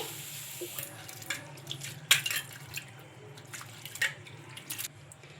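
Water splashes and trickles in a mixing bowl as soaked flattened rice (poha) is rinsed, with soft drips and small splashy bursts over a low background hum, close and fairly quiet.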